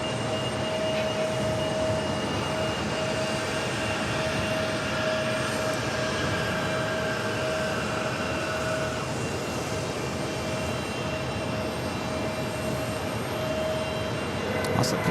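Kenya Airways Boeing 787 Dreamliner pushing back at JFK airport: a steady distant engine hum with a thin high whine, fairly faint and unchanging, no one speaking.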